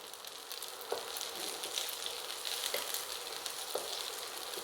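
Crushed curry leaves dropped into hot oil for Kerala-style kadala curry sizzle steadily, a continuous fairly faint frying hiss with a few soft clicks of stirring.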